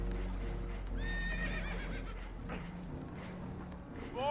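Several spooked horses neigh and whinny in agitated bursts in Red Dead Redemption 2 as a boat takes on water, over a steady rumbling background, with some clattering movement underneath.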